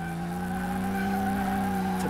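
A fully rebuilt car engine idling steadily in Car Mechanic Simulator 2018, a continuous, even hum with a strong low drone and layered harmonics, loud and close with no talking.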